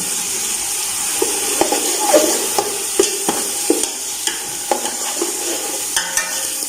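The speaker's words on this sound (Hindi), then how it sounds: "अभी डाल देते हैं प्याज। ये करते हैं ब्राउन।" Onions frying until brown in oil for chicken matar pulao, a steady loud sizzle with a spoon scraping and clicking against the pot in irregular strokes.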